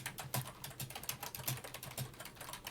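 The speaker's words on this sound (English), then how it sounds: "Sorry, that's probably really loud typing." Loud typing on a computer keyboard, a steady stream of close clattering keystrokes with irregular rhythm and no voices.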